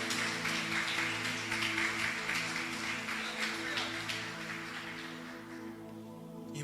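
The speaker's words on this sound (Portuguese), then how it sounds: "Se você puder aplaudir ao Senhor mais uma vez." A church congregation claps together in steady, continuous applause, loud and close. Sustained musical tones hold underneath, and the clapping thins toward the end.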